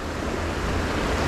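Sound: ocean waves while fishing from a boat

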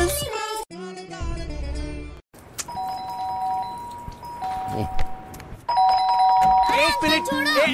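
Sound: doorbell ringing

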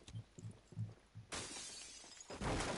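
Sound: objects breaking and shattering in Rainbow Six Siege video game

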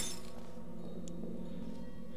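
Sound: glass clinking in video game Portal 2

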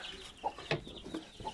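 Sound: hen clucking

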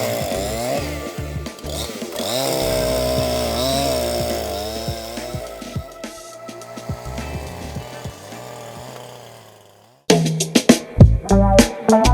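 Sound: Husqvarna 353 chainsaw running

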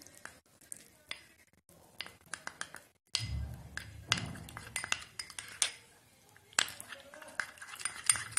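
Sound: mixing honey skin paste with a spoon in a bowl

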